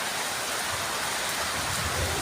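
Heavy rain pours in a dense, continuous roar with no other sound, falling over a rooftop where pigeons are kept.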